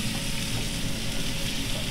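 Sweet potato and onion hash sizzling steadily in a hot pan at a Portland food cart as it is tossed, a constant dense crackle and hiss without pause.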